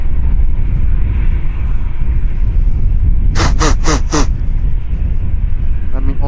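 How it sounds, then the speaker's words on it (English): A short, harsh nose blow of three or four quick bursts rises over steady low aircraft engine rumble at Amsterdam Schiphol Airport, with fainter scuffling at the end. "Also use this moment to blow my nose, as you can hear."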